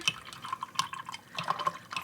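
A paintbrush swishes and taps in a jar of dirty watercolor rinse water, giving soft repeated sloshes and light clinks against glass, close and quiet with no speech.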